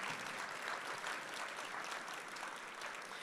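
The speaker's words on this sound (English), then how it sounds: "Round of applause." Audience applause after lunch at an Economic Club of Indiana luncheon, a steady, even wash of many hands clapping, heard faint and somewhat distant throughout.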